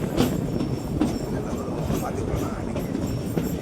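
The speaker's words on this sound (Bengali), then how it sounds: "আমাদের ট্রেনটা এখন রামনাথপুরম স্টেশনে ঢুকছে" A passenger train on the Madurai to Rameswaram line rolls into Ramanathapuram station, a steady close rumble from inside the carriage with rhythmic wheel clatter and faint squeals.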